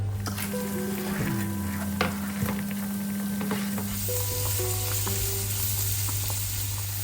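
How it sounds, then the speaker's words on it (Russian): Cabbage fries in butter in a pan with a steady, close sizzle, interrupted by a few clatters of stirring, alongside a faint constant background hum. "Я жарю на сливочном масле, но это не принципиально."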